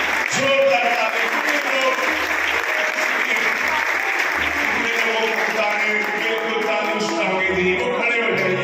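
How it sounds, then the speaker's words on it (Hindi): A church congregation applauds loudly for Jesus at a Christmas service, a dense, sustained clapping from a large crowd close by, with a voice speaking over it. "यीशु के लिए जोरदार तालियां बजाएं।"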